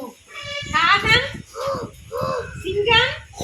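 A voice imitates a crow, giving several harsh, nasal caws in short bursts, close and fairly loud.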